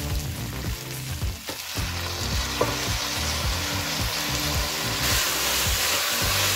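Minced meat keema fries in a pan, a loud, continuous crackling sizzle with repeated scraping stirs and a low burner rumble underneath, close and without talk.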